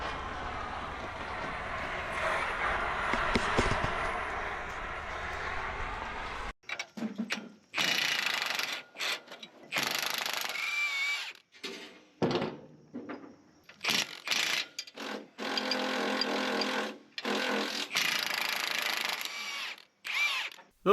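A power tool runs in repeated short bursts, with pauses between them, as it removes the bolts that hold the cooling pack on a 10X10 truck. A steadier mechanical drone comes first. No voices are heard.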